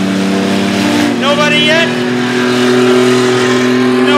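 Race cars roar out of turn 4 at Rockford Speedway during a night gauntlet race, a loud, continuous engine drone holding steady throughout, with an announcer talking over it.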